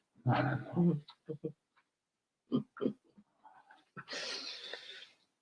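Dogs whimper, grunt and give short yelps in close, irregular bursts with quiet gaps, ending in a longer breathy whine.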